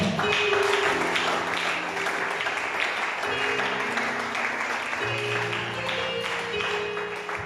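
A church congregation applauds loudly and continuously, a dense wash of many hands clapping, with cheering voices and a background hum underneath throughout.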